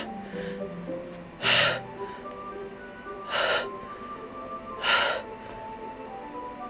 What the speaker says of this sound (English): A sharp inhale, like someone is sucking the air through their teeth.